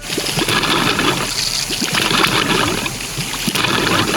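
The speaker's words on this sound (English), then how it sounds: "Turning on the water." Water rushes steadily through a three-stage Tucker Rival carbon sediment filter system, a close, continuous hissing flow with small gurgles and no talking.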